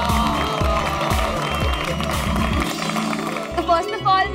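Audience applause and cheering at a ceremony on the Taarak Mehta Ka Ooltah Chashmah set, a steady wash of clapping from a crowd that fades toward the end, with a voice and music underneath.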